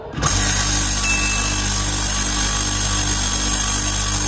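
A split air conditioner compressor, freshly refilled with oil, starts up and then runs with a loud, steady, even hum throughout.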